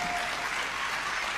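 Romanian fans in the crowd at a women's team table tennis semi-final in London, clapping and cheering as a dense, steady wall of applause throughout.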